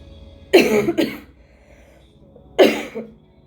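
Two loud, close coughs from one person, a double cough followed by a single one after a short pause, with no talk around them.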